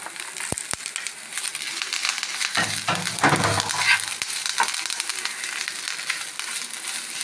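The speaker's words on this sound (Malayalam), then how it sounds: "വേപ്പിലൊക്കെ നന്നായിട്ട് ഫ്രൈ ആവണം." Grated coconut and curry leaves frying in a pan for garlic chutney powder, a constant crackling sizzle close by with a few sharp knocks and a burst of scraping stirs midway.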